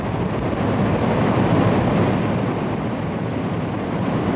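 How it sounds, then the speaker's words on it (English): Water rushes through the breached spillway of the failed Auburn cofferdam in 1986, a loud, steady, broadband roar with no let-up and no voices. "The water eats into the toe of the dam."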